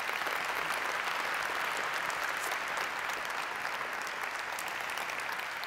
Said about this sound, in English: Let us clap loud enough so it's heard all the way to Kinshasa.